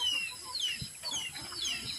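Chickens cluck in a farmyard after feeding, with several overlapping short calls and a brief rooster-like cry among them, moderately near and steady over ambient noise.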